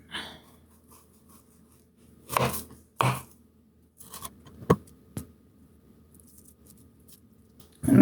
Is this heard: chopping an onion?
yes